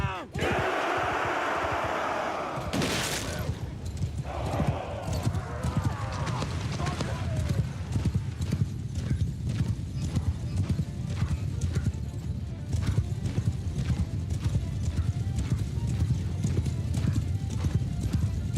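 Many horses gallop in a Warhammer-themed video game mod battle, a dense drumming of hooves with whinnies and shouting voices over a loud battle din.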